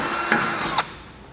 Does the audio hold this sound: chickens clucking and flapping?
no